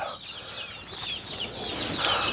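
Hens with chicks in a backyard coop give soft clucks mixed with thin high peeping from the chicks, several short calls overlapping fairly close by with no talking.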